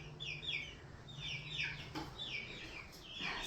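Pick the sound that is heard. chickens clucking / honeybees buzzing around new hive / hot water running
chickens clucking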